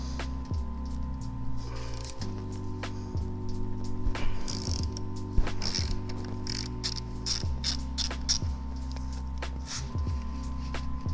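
A hand ratchet loosens bolts on a Honda Rebel front fork, giving quick bursts of close, crisp clicking with brief pauses between strokes.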